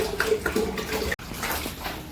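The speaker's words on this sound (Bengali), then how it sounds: "যে ড্রামের ভিতর জল ঢেলে নিয়ে এই যে বোতলের ভিতরে সব জল রাখছে এখানে" Water poured from a large drum into bottles, a steady splashing, gurgling flow close by, broken by one brief cut partway through before the pouring carries on.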